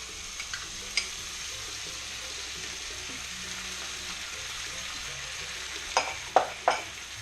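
Sauce poured into a hot pan of browned chicken for arroz con pollo sizzles quietly and steadily, with a few sharper splashy hisses and stirring knocks near the end.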